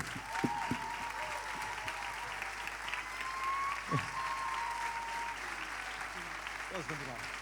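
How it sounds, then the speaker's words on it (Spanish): Audience applause rings out at a traditional music contest, a steady dense wash of clapping that carries through the whole stretch with a few whistle-like tones and brief vocal sounds mixed in. "Entón, un forte aplauso pola música tradicional."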